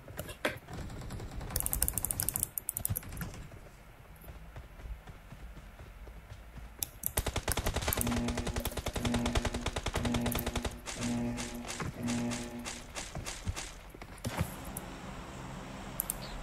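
Rapid automatic gunfire rattles in PUBG Mobile, with bursts of sharp shots, some dense and continuous, others spaced into a rhythmic series, mixed with other game sounds and fairly loud throughout.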